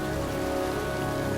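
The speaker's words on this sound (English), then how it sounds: "It's cold. It's raining." Steady rain patters down over a cold cemetery in the video game Heavy Rain, a dense, even hiss of drops with a faint constant hum underneath and no voices.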